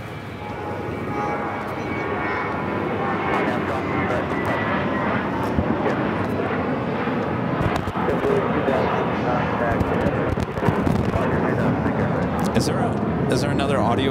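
An Emirates Airbus A380 at Los Angeles LAX airport produces a sustained, loud engine roar that swells slightly as it goes on, while people talk over it.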